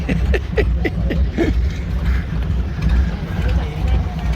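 A low rumbling boat engine idles and churns nearby while reversing away from a dock at Koh Lipe, Thailand, steady and heavy, with a few faint knocks near the start.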